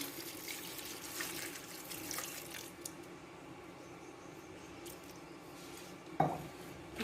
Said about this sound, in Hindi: तो अभी हम इसमें पानी ऐड कर रहे हैं